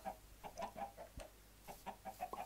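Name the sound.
chickens clucking in video game Minecraft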